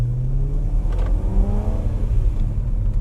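A manual BMW E92 M3 engine warms up with a steady, close rumble and a brief rise in revs midway, heard alone without talk.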